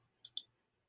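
Two quick, crisp computer mouse clicks close together, sharp and faint against near silence.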